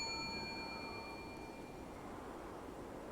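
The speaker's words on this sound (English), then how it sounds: "You just like hearing the bell?" A bell rings with a clear, sustained ding that decays slowly over a steady background noise.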